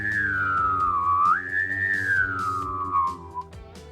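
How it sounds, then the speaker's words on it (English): One person hums a low steady drone while whistling a gliding melody over it. The two tones sound together, close and clear, for a few seconds without any speech. "Here's me humming and whistling at the same time."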